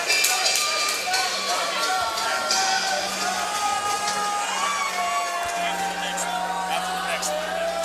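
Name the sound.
fight crowd cheering between rounds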